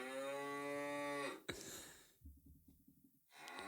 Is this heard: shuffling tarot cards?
no